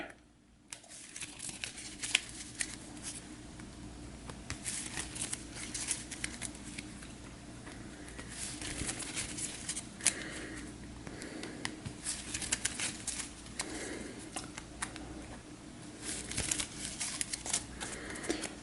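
A deck of game cards is shuffled by hand at a tabletop campaign game, with a run of crisp riffling and crinkling patter that comes and goes over nearly twenty seconds, close and fairly quiet, without talk.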